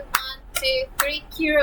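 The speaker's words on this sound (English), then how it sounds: "I clap my hands 3 times for you." Three sharp hand claps, evenly spaced and close, each paired with a voice counting aloud, followed by a short spoken word.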